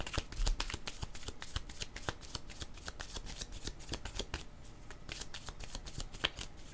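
Tarot cards shuffled continuously up close to draw a card, a dense run of crisp snapping flicks and slides lasting several seconds, no voices.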